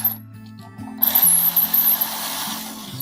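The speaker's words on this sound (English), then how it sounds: "When these do this, I just force them in with the screws." A screwdriver forces screws into an electrical receptacle, giving a close mechanical grinding and ratcheting whir that starts about a second in and continues unevenly beneath a steady low hum, with no talking.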